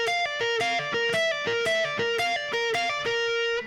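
A distorted electric guitar plays a repeated solo phrase from a song, with rapid picked notes in a quick, steady rhythm, moderately loud and played alone.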